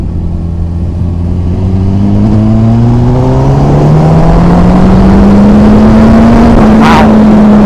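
A V-twin motorcycle pulls hard in a tall first gear, its engine note climbing steadily and continuously as it revs up, loud and close with strong wind noise, then levelling off near the end.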